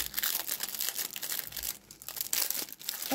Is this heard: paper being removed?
yes